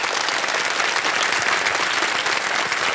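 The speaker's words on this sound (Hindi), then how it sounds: "ताली बज जाए इनके लिए" Steady, dense applause from the studio audience of the KBC Season 16 game show fills the room, loud and continuous throughout with no break.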